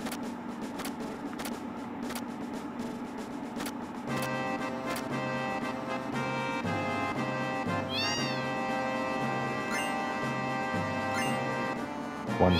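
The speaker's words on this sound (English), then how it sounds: "Look at all the cats." Cats meow in the Final Fantasy VII video game, several high wavering mews rising over a steady game music bed with a repeating low pulse, the cries fairly faint and spaced apart.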